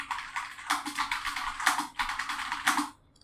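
Clicky keystrokes on a computer keyboard while filling in a listing form on a WordPress directory site, tapped in quick irregular bursts, close and clear, ending in near silence.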